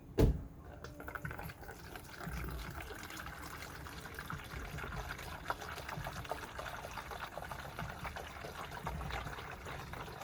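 Water pours steadily into a container, a continuous low splashing and gurgling that runs for several seconds after a brief knock at the start.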